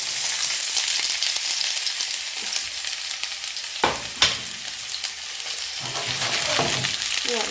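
Drained cooked rice frying in oil in a pan, a continuous bright sizzle with a couple of sharp clanks from stirring midway, heard up close without talk.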